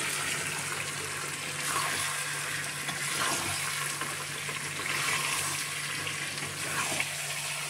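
Water poured into frying spiced chicken, a steady sizzle and watery rush with gentle surges, continuous at moderate level with a faint low hum beneath.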